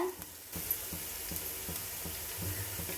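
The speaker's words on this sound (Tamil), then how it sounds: "வெங்காயம் நல்லா வதங்கி வருது, நல்லா கிறிஸ்பியாகவும் தெரியுதுங்க" Onions frying in a pan for mutton fried rice, a steady soft sizzle with faint stirring scrapes repeating at a regular rhythm, close and fairly quiet with no talk.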